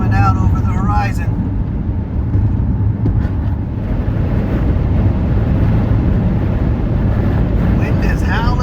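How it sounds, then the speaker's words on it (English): Strong wind roaring and buffeting outdoors along a desert highway in Southern California, a loud continuous rumble over the microphone with brief voice-like sounds at the start and end. "I don't know if you can hear it, but the wind is howling right now."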